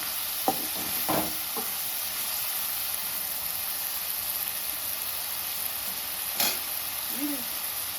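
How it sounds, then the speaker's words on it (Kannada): Onions fry in oil for egg bhurji with a soft, even hiss that continues throughout, marked by a few brief stirring clicks and scrapes near the start and one more later. "ಈರುಳ್ಳಿ ಎಲ್ಲ ಬೇಯಬೇಕು ಚೆನ್ನಾಗಿ, ಎಣ್ಣೆಯಲ್ಲಿ ಫ್ರೈ ಆಗಬೇಕು."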